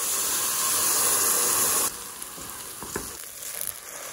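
Butter, browned onion and toasted rice with a pinch of salt sizzle loudly in a pan for a risotto with porcini mushrooms, a bright steady frying hiss that drops suddenly to a softer crackle, with a few light stirring scrapes.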